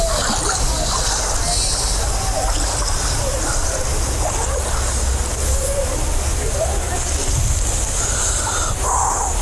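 Water sloshing and splashing steadily in the Jordan River as people wade in from the bank, a constant wash of flowing water with low rumbling underneath, close by and fairly loud throughout.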